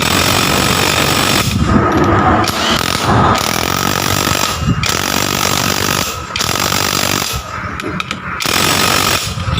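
Loud rattling air impact wrench tightening a nut on the clutch of a Yamaha Jupiter Z motorcycle, running in sustained bursts with brief pauses between them.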